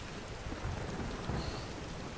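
Thunder rumbles through steady heavy rain during a lightning strike in the video game Tomb Raider (2013), with two low booming swells over a constant rain hiss.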